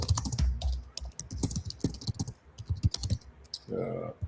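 Fast typing on a computer keyboard during a live coding session, a dense run of sharp clicks and key taps under a brief burst of talking in the room.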